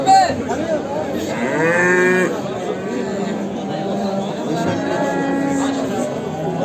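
Cows and calves moo at a busy livestock market, with one loud, drawn-out moo standing out among others nearby, under steady crowd chatter and people talking.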